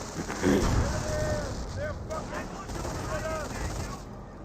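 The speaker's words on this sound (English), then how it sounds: "They're fucking shooting at us!" Bursts of gunfire from the World War II strategy game Company of Heroes, a sharp volley early on followed by scattered shots, heard beneath talking voices throughout.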